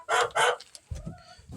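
Backyard chickens at feeding time give two loud crowing-like calls followed by softer clucks, close to the microphone, with no talk.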